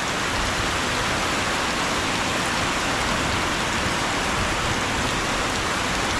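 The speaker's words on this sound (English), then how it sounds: "it's raining" Steady rain falls continuously, a dense hiss of drops on surfaces at constant loudness, with no voices.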